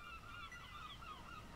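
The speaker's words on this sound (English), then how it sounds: "That is a really loud seagull." Seagull calls from the PSP video game Metal Gear Ac!d: repeated honking, squawking cries sit over a quiet, steady game background and continue throughout without speech.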